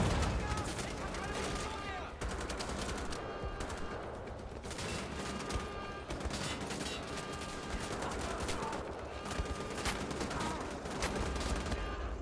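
Sustained gunfire from Wolfenstein: The Old Blood, a steady stream of rapid shots and blasts filling the whole stretch, loud and continuous with layered game noise.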